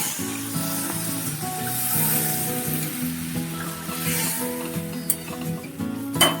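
Water poured into a pan of frying salted ridge gourd sets off a steady sizzle and hiss that runs throughout, with faint clinks and a tonal background hum.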